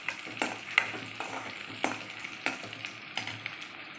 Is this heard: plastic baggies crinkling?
no